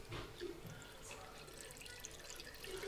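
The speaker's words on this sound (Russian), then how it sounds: "мы сейчас сюда будем лить воду" Water poured into a filter jug: faint, steady trickling and splashing with scattered drips throughout the short stretch, quiet and close.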